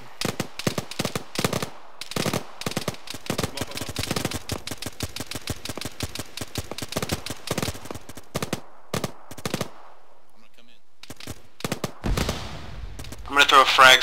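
A military video game battle rattles with rapid automatic gunfire, long chains of sharp bursts and single shots crackling for most of the stretch, falling briefly quiet before heavier, louder fire returns at the end.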